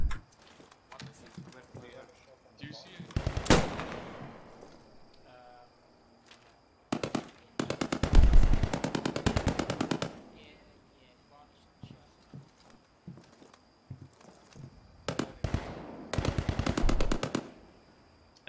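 Enemy machine gun fire in a World War II style video game battle, heard as several long rattling bursts, loud and fairly close, separated by quieter stretches with scattered distant shots.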